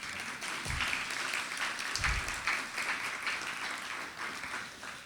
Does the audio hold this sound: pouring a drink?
no